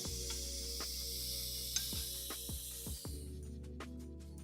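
Welding during fabrication for a turbo engine swap in a garage, a steady close hiss and sizzle with a low hum beneath and several brief clicking pops, no talking.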